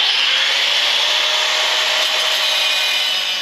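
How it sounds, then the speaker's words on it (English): Steady, continuous abrasive cutting through metal bolts on a barrel being made into an outdoor Christmas tree collar base, a bright hissing grind held evenly at close range with no pauses and no talking. "But I'm going to cut these bolts off so they're not sticking out."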